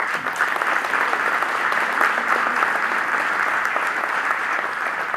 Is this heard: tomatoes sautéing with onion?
no